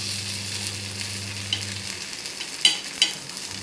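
Paniyaram frying in a nonstick pan, a soft steady sizzle with a low hum at the start and a couple of sharp clicks near the end, no voices.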